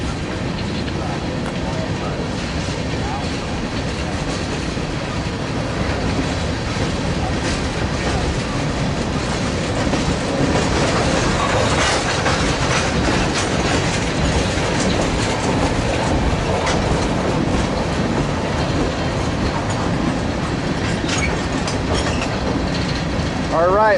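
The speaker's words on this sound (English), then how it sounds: "That eastbound BNSF freight stopped, sort of the signal, but I see headlights down there" An eastbound BNSF freight train rolls past at Daggett, a loud continuous rumble of railcars with rhythmic clickety-clack and faint wheel squeal holding steady throughout, with no voices.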